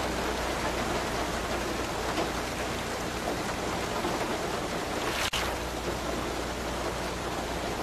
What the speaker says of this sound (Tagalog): Pabilog po, palalaki kasi ang patak ng ulan ngayon.